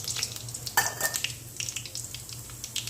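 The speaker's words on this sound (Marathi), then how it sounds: "जिरे मोहरीची फोडणी देणार आहे." Cumin and mustard seeds spatter and crackle in hot oil for a tempering for shev bhaji, with a sharp burst of sizzle near the start and quick small pops running through a steady frying hiss.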